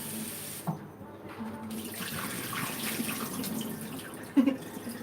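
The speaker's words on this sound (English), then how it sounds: "I don't know how these leaves look so clean, but I just like to rinse them anyway," Tap water runs steadily into a kitchen sink while leaves are rinsed, a continuous close splashing hiss with a brief clatter near the end.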